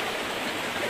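River water flowing in a steady, close wash of broadband noise, continuous and moderately loud through the whole short stretch, with no voices over it.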